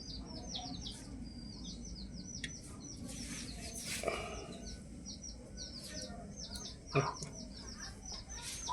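Chickens cluck and chirp steadily at mid distance in an outdoor village setting near a wood-fired stove, with repeated short calls and a low background rumble.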